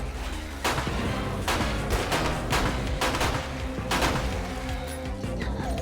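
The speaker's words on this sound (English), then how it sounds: "we'll just shoot him in the leg, I guess" Rapid gunshots in the survival video game 7 Days Blood Moons, a string of sharp cracks at uneven intervals over about six seconds, fairly close and steady over a busy game background.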